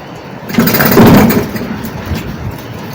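An old Seagull outboard boat engine, started after a long time unused, catches and surges loudly for about a second, then settles into a rougher, quieter running beat that carries on to the end.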